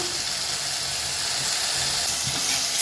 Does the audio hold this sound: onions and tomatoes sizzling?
yes